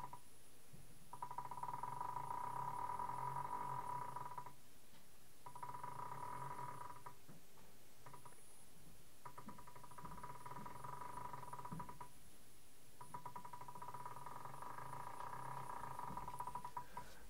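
A large Arduino-controlled stepper motor spins slowly, giving a steady tonal whine and hum that runs in bursts of a few seconds with short pauses between, fairly close and with no talking.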